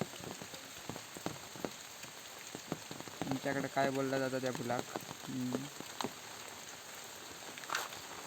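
Monsoon rain in the Konkan countryside patters and hisses on a surface throughout, with scattered drips; a voice speaks briefly in the middle over the rainfall.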